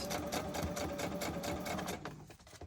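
A sewing machine stitches through a handmade junk journal, a fast steady mechanical whirring and clatter, close and loud, slowing and stopping near the end.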